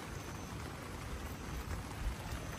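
Rain falls steadily as a dense, even patter close by, with no break and no voices.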